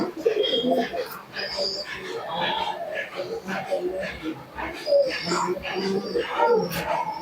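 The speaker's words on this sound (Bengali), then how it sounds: "এই হচ্ছে নরপায়রাটা।" A male imported Teddy pigeon, a Pakistani breed, coos softly and repeatedly close by while someone talks over it almost throughout.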